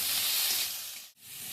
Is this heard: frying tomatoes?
yes